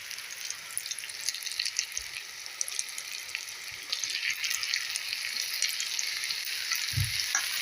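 A tomato-onion paste fries with spices in oil for a soybean dish, giving a continuous close, bright sizzle with a few soft thumps as it is stirred.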